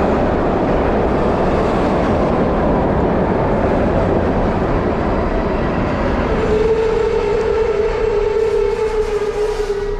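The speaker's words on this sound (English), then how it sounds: "So let's first jump on a train" Steady, loud rumble and rattle of a train ride in Philadelphia, with the rolling wheel and carriage noise continuous throughout and a sustained tonal whine or squeal rising in the second half.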